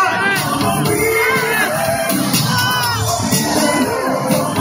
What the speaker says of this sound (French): on va crier le plus fort possible en faisant le compte à bout en partant de 5